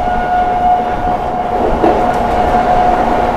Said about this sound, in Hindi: क्या बढ़िया रफ्तार में स्किप कर रही है अपनी प्रयागराज एक्सप्रेस।